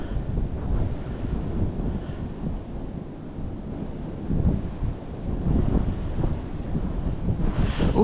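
Steady, rumbling wind on a frozen pond during ice fishing buffets the microphone throughout, with broad low roaring noise and no voices.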